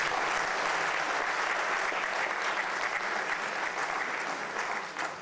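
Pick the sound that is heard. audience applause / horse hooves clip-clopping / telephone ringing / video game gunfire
audience applause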